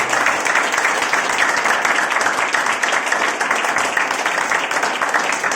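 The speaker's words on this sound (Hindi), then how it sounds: "आइए जोरदार ताली परमेश्वर।" A church congregation claps loudly and continuously during a sermon, a dense sustained burst of applause with no pause.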